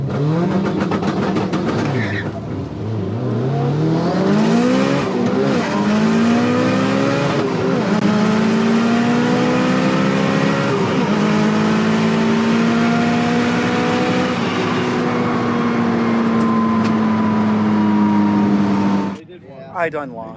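A turbocharged all-wheel-drive Eagle Talon launching at a racing shootout, the engine revving hard and climbing through rising pitch sweeps for nearly twenty seconds, loud and close, with voices talking over it before it cuts off abruptly.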